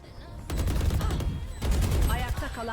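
Rapid bursts of automatic gunfire from the Valorant shooter game, two clusters of loud shots with a short gap between them, and a person speaks near the end.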